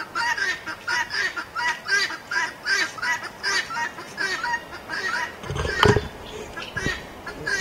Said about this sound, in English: Of course, you can hear my guinea.